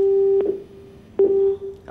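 A telephone busy tone sounds after a caller's line disconnects during a phone-in astrology program: two loud, steady beeps separated by a short pause, heard alone without speech.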